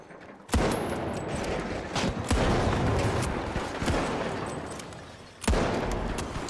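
Rapid bursts of gunfire in the shooter game The Finals, loud and dense, with sharp shot transients and a couple of heavier booming impacts over a continuous roar of battle noise.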